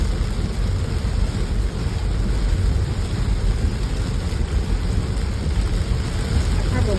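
A steady, dense hiss of heavy rain with a low rumbling undertone, constant and unbroken throughout.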